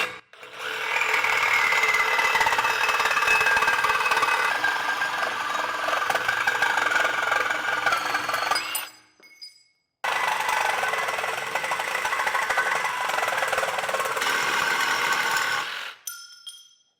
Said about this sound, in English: Now I'm going to take a Sawzall with a fresh blade and just start getting